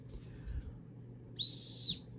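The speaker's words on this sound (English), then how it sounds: "it is a dog whistle" A pet training dog whistle gives one short, shrill blast for about half a second against a faint, low background hum.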